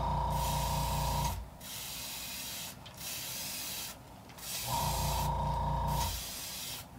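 Airbrush spray hissing in two long bursts with pauses between, applying a second coat of yellow paint to a blank fishing lure in a Goblin pattern, close and steady.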